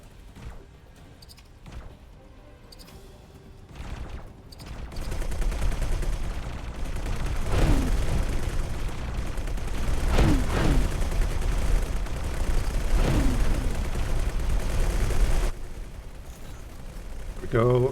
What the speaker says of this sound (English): Medium turrets are hitting his hard points, which is always what you want.